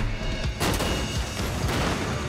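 A dense, roaring burst of blasts and crackling booms, loud and continuous, like large explosions with rumbling fire, from practical movie explosions made with propane jets and kerosene pots.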